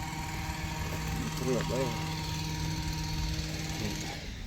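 A bounce house blower hums steadily and close for the whole stretch, a low continuous motor drone while people talk briefly over it.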